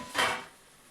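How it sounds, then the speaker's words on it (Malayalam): A cooking pot used for chicken curry is shifted aside in a kitchen, making a single short clunk that quickly fades. "നമ്മൾ പാത്രം മാറ്റി വെക്കാം."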